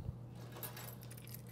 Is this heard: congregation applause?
no